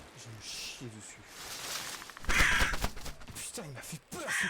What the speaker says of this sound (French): Oh, ce corbeau de merde.